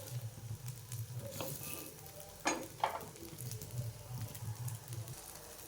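Pitha fries quietly in ghee in a pan with a soft continuous sizzle, a few sharp scraping clicks midway and a low hum underneath.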